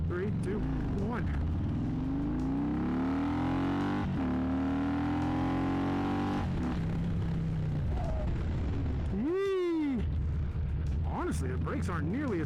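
A Harley-Davidson Road King launches from a stop, its engine climbing in a long rising pull, easing off, then snapping through quick loud revs with popping bursts, heard close over wind-like rumble.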